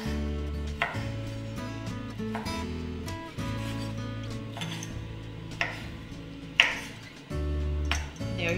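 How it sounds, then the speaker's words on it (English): A knife rough chopping ingredients on a cutting board while cooking egg pasta with roasted bell pepper and beef ribeye, a run of close, sharp taps in an uneven rhythm over a steady low background hum. "You just rough chop it."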